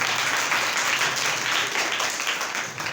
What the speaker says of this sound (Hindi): जोरदार तालियां खुदावंद के लिए बजाते